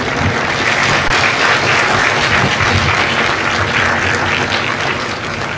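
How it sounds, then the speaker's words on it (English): Loud, sustained applause from a large audience at a Marine Corps recruit graduation in San Diego, honoring recruiters and combat instructors; thick, even clapping runs unbroken throughout with a faint crowd murmur beneath. "would you join me in a round of applause for our recruiters and our combat instructors?"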